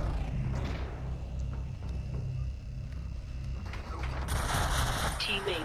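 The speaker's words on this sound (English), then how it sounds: "Oh, he shot me right here." Gunfire in the VR video game Population: One, scattered shots and distant bursts over a steady, dense background of game noise, with a louder, bright burst near the end.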